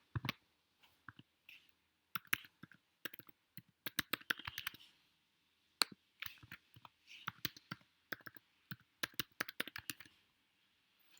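Someone types a password on a computer keyboard, in irregular bursts of crisp, close key clicks separated by short pauses, with no talking.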